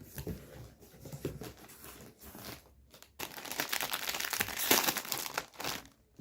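Crinkling and crumpling of plastic snack packaging as a carton and bag of tomato-flavoured Ish Ish snacks are opened, close and fairly loud, with rustling bursts that grow denser in the second half.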